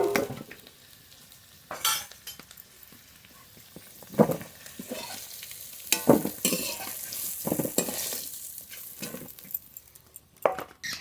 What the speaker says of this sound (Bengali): আলু খুব ভালো করে ভেজে নিয়েছি নামিয়ে নেব